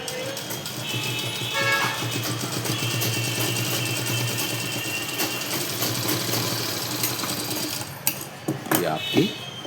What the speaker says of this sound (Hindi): फिर आपको एक अच्छी सी पगड़ी सिलाई मारनी है।